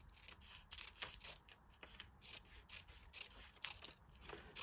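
Scissors snipping paper at a crafting table, a steady run of quiet, close cutting strokes with short gaps between them, and no one speaking.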